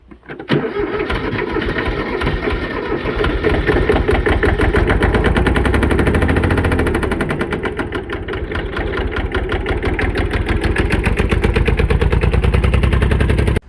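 A greenhouse tractor whose engine oil has gone unchanged for two years runs loud and steady, its diesel clatter chugging in a fast even rhythm close by with no talk over it.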